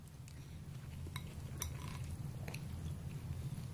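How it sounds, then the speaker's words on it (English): Quiet close-up eating with a spoon from an inexpensive Japanese convenience-store meal with rice: a few faint clinks of the spoon against the dish and soft chewing over a low steady hum, with no talking. "I'm eating with a spoon today."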